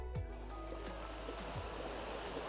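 Ocean waves washing onto Diamond Beach in Okinawa, a steady broadband surf wash with a few soft swells breaking, moderately loud and heard alone without voices.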